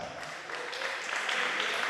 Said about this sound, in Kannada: ಜೋರಾಗಿ ಚಪ್ಪಾಳೆ ವಿಸಿಲ್ ಹಾಕ್ಬೋದು